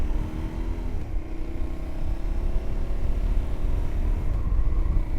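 An Aprilia Tuareg 660 motorcycle engine hums steadily while riding, with a low rumble and rising tone, close to the microphone with some wind noise.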